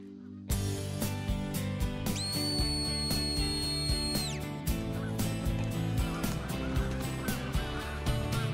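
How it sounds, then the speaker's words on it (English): A sharp two-tone whistle blast rings out for about two seconds over a busy background of bird calls and rhythmic clatter. "Just whistle."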